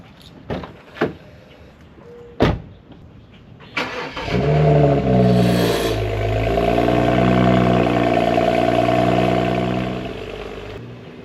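Honda Odyssey minivan: a few car door clunks and thumps, then the engine starts and runs as the van is driven and pulled up, with a steady, fairly close hum that fades at the end.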